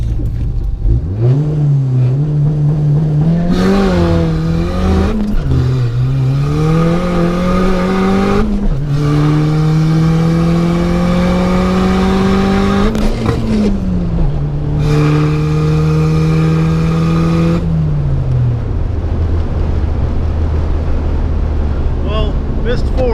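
A Ford Mustang SVO with a new turbo, transmission and tires accelerates hard in its first race of the year at a track, engine pitch climbing through several gear changes for over twenty seconds, loud and close, with voices faintly under it.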